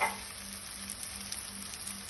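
Garam masala, chili, turmeric and coriander powders sauté in a pan for a vegetable curry, giving a faint, steady hissing sizzle with no talking.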